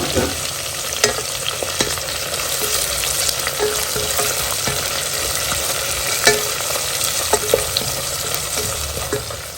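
Fresh green peas and a chopped tomato sizzle in hot oil in a pan while being stirred, with a steady fry hiss broken by scraping stir strokes, close and continuous with no talking.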